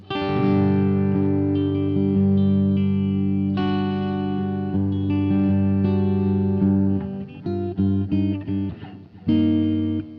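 An electric guitar plays sustained, ringing chords with a light crunch of distortion through a GTR3 unit, ending in a few choppier strums.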